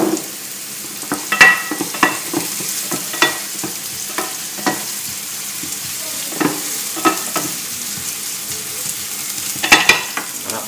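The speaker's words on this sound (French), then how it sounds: "on va faire revenir légèrement ça" Green chili sautés in oil with a soft background sizzle, punctuated by irregular clicks and knocks of a utensil stirring in the pan, close and fairly quiet.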